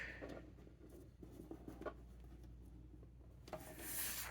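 Cardstock paper being cut for card making, soft close-up rubbing and scraping strokes, quiet and irregular, ending in a brighter hiss.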